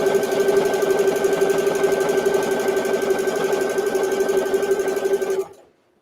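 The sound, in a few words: sewing machine stitching a microwave potato bag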